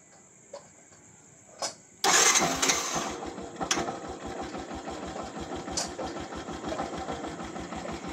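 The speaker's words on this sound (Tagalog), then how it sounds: "Start natin tong motor." After a couple of quiet clicks, a Yamaha YTX125 motorcycle engine suddenly fires up and settles into a steady, rapid putter as it idles close by.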